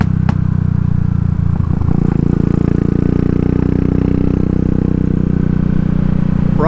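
A Classic 500 motorcycle running a custom fuel map pulls hard through its rev range, its engine a loud, steady low drone with a slight rise in pitch and faint mechanical clatter.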